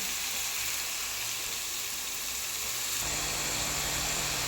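Tomatoes sautéing in a pan after ginger-garlic paste for a prawn biryani give a steady broadband sizzle that grows a little fuller and louder near the end, with no voices.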